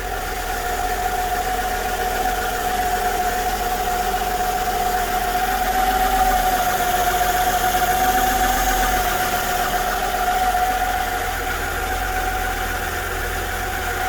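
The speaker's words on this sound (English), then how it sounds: "It's a V6 engine" A Mercedes CLK W209 V6 engine, M112, idles roughly up close, a constant low rumble with a faint hum, running a little unevenly throughout.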